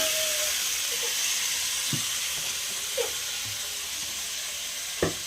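Chopped tomatoes, three of a non-sour kind, go into onions frying in a pan, raising a steady sizzling hiss with a few small clinks and taps, no talking.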